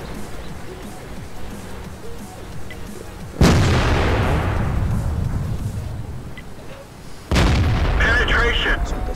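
Tank gun firing in the World of Tanks video game: two loud booming shots a few seconds apart, each with a long rumbling decay, over a steady engine hum while someone talks.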